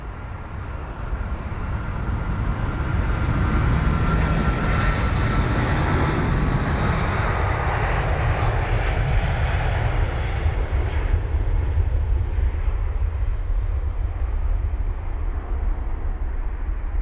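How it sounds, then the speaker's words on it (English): An American Airlines Boeing 777-200ER, a 23-year-old jet bound for Charlotte, taking off from London Heathrow, its engines a loud, steady roar that builds and holds before slowly easing as it climbs away. "That's heading to Charlotte, the 777-200ER."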